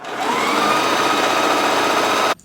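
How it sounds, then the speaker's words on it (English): A sewing machine runs in one steady, fast burst as it stitches down a pocket on a winter coat, a close whirring hum that stops abruptly at the end. "we're just gonna fold this over and stitch it down"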